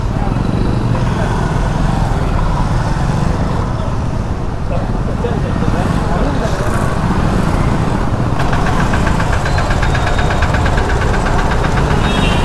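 City road traffic waits at a signal, heard from a Swiggy delivery rider's position: a loud, continuous rumble of idling and revving car and motorcycle engines surrounds the rider, with someone talking over it throughout.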